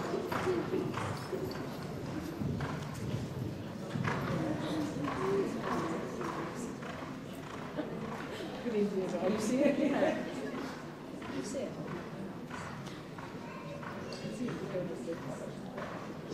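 Stallion's hooves during a show-jumping warm-up at a stallion show, soft rhythmic thuds and clip-clops on the ground mixed with talk and outdoor ambience.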